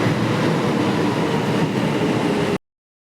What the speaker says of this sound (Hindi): यहाँ पे हमारी मेट्रो भी आ चुकी है।